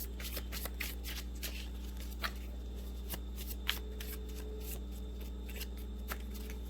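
Oracle cards shuffled by hand, a continuous soft riffling with small taps and flicks over a steady low hum, close and fairly quiet.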